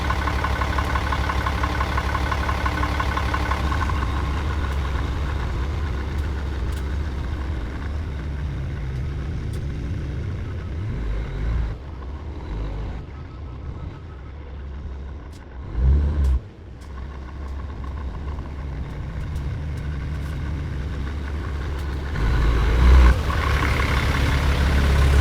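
A fire department tanker truck runs with a deep, steady engine rumble, idling and then pulling away, with louder revving surges partway through and near the end.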